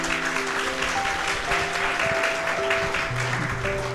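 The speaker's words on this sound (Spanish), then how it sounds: "Un fuerte aplauso, iglesia." A church congregation applauds during a wedding ceremony, a loud, even wash of clapping heard over sustained organ or keyboard tones.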